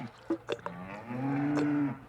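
A cow on a ranch, there for milking, gives a few short grunts and then a long, drawn-out low moo, heard close and fairly clear.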